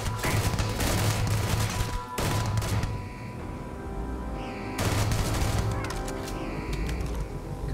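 Dense bursts of gunfire from a Starfield firefight crackle in heavy volleys, break off briefly around the two-second mark, then resume after a quieter stretch with scattered distant shots.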